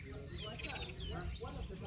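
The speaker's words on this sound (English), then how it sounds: "Birds chirping." Faint birds chirping at a campsite in Kenya, thin high calls repeating over a steady low outdoor rumble, with someone talking over them.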